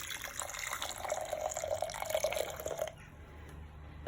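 Hot water pours steadily into a cup of crumbled cacao with a bubbling, rising trickle for a few seconds, then stops, leaving a quiet room.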